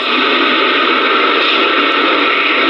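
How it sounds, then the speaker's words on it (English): A steady, loud, unchanging rumbling hiss from a model train sound effect, heard continuously with no pauses or other sounds. "You get like this rumble effect."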